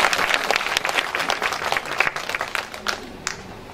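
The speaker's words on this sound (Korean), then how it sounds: "큰 박수 부탁드리겠습니다" Applause from an audience at a patriotic poetry-recital concert, steady clapping from many hands that fills the room, loud and close, then thins and fades near the end.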